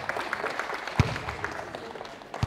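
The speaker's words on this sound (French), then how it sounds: "On peut les applaudir pour leur participation." Audience at a youth mini-basketball refereeing forum applauding participants, a brief, faint spatter of clapping in a room, with a few sharper claps standing out.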